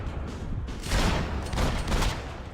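Rapid video-game gunfire rattles in dense, sustained bursts that swell and ease over a couple of seconds, loud and close, with no talking.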